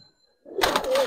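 A Giribaz pigeon of an old Old Dhaka breed gives a short, close coo after a near-silent pause, a single soft burst of about half a second.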